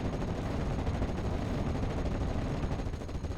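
Sustained gunfire from half-tracks in a World War II strategy game battle, a dense continuous rattle of overlapping machine-gun bursts at steady loudness throughout, with no voices.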